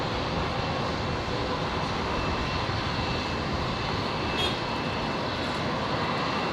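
An aircraft landing on runway 01 left at Brisbane Airport gives a continuous, broad engine roar heard from a distance, holding steady in level with no speech.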